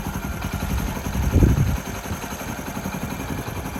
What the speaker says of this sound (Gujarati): ભાઈએ બાઇકનું એન્જિન પણ ફિટ કરી દીધું છે, ચાલુ કરી દીધું છે.